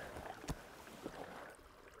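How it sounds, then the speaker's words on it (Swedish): Faint, quiet canoe paddle strokes dip into mirror-still water, a couple of soft splashes over a hushed, windless wilderness background with birdsong. "Endast fågelkvitter som hörs. Och paddeltagen."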